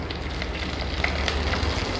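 Dried red chillies dropped into hot oil for rasam, sizzling and crackling continuously at close range with brief sharper pops.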